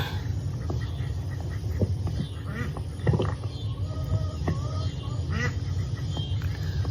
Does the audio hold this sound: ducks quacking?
yes